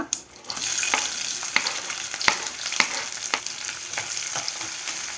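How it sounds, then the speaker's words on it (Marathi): Onion sautéing in a pan with cumin and whole spices for a vegetable pulao, a steady close sizzle broken by sharp regular taps and scrapes of a spoon stirring. "कांदा थोडंसं परतून घेऊया"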